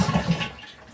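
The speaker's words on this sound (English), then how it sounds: "go ahead and flush the toilet, and let's let all that water drain as much as possible" A Kohler toilet flushes as its tank drains, a brief loud gurgling rush of water that fades quickly, heard alone up close.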